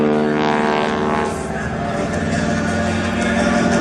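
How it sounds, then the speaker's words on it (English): A Harvard T-6 propeller aircraft at an airshow drones loudly and steadily while snap rolling over the top of a loop, its engine tone wavering slightly as it maneuvers. "Up into the sky and snap rolling the airplane over the top."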